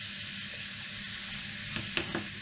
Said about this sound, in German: während die Zwiebeln anbraten